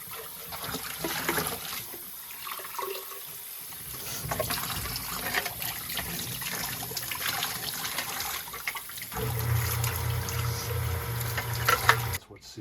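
Dirty water dumped out of a house water filter housing, a sustained splashing pour and trickle lasting several seconds, with people talking faintly in the background.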